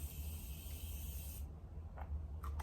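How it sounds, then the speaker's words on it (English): A steady spray hiss of Morphe setting spray mist on a face lasting about a second and a half, then a few soft brief sounds over a low background hum. "Now I'm supposed to spray my face with setting spray."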